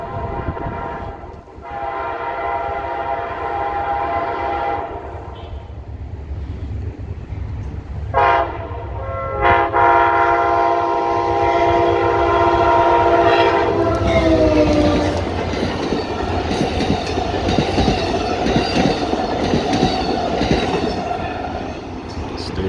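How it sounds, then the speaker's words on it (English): An Amtrak westbound train passes through Gaithersburg station in Maryland: loud sustained chords from the horn rise and fall, then a steady roar of wheels and cars with clickety-clack and squealing rail noise close by. "Got a westbound train coming."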